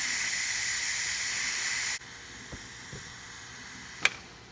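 Ninja Foodi pressure cooker venting steam, a loud steady hiss that cuts off abruptly, followed by a few soft clicks and a sharp tap in a quiet room.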